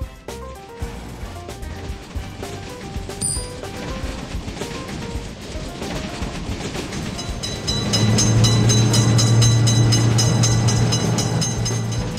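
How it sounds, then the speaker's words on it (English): A train passes a road crossing with a lifting gate, a loud rumbling roll and rattle of wagons that swells sharply toward the end as the cars pass close, with a high squeal over the top. "Train is in sight."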